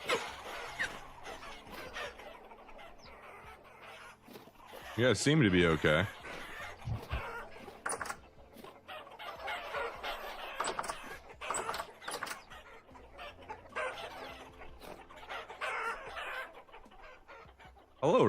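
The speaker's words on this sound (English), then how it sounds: "Hello, little chickens." Chickens and a rooster cluck in the farmyard of the video game Vintage Story, with a louder burst of fowl noise midway, scattered under a man's speech throughout.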